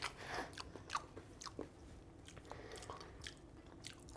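Crunchy bites into crispy Thai-style fried chicken, a few sharp close crackles early on followed by softer chewing, quiet and alone with no talk.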